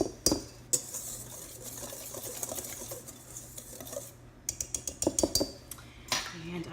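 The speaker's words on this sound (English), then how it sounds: "I'm gonna go ahead and stir this up just to get it incorporated." Sour cream corn bread batter stirred in a mixing bowl; soft scraping and swishing with a run of light utensil taps against the bowl near the end, quiet and close, with no talking.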